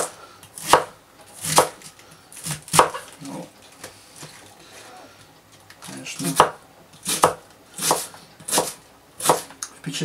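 A knife chopping cabbage on a cutting board in irregular bursts of sharp, crisp thuds, close and clear, with short pauses between runs of cuts.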